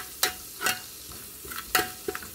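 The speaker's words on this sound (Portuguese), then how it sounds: "fritar o alho." Garlic sizzles steadily in a hot pan while a utensil scrapes and stirs in a few sharp strokes.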